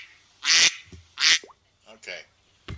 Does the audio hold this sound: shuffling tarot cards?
no